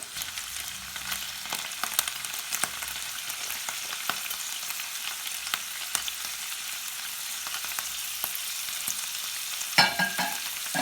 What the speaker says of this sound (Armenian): Հիմա արդեն ավելացնենք մեր սունկը, որ միասին մի փոքր տապակվեն